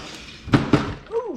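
A door in a newly floored house is pushed shut, giving two quick, solid thuds close by, followed by a brief vocal sound.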